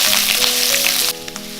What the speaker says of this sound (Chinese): 炒香了就把西瓜皮放进来翻炒。